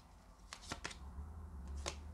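A deck of tarot cards is shuffled by hand in a few quick, soft riffling bursts. The sound is faint and close against a low background hum.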